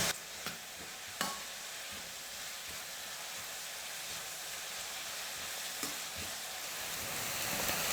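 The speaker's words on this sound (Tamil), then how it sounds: "உப்பு சேர்த்துட்டு வதக்கும் போது வெங்காயம் வந்து கொஞ்சம் சீக்கிரமா வதங்கும்." Onions sautéing with salt and curry leaves in a pan for Tamil-style tomato thokku, giving a steady close sizzle and frying hiss with a few sharp stirring clatters near the start, no voices.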